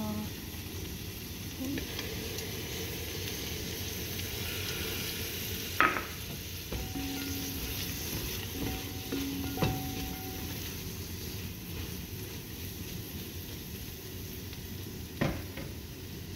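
Spices being stirred in a sizzling frying pan for shrimp kabsa, a steady soft hiss of frying with occasional scrapes and clinks of the utensil, and someone speaking over it at times.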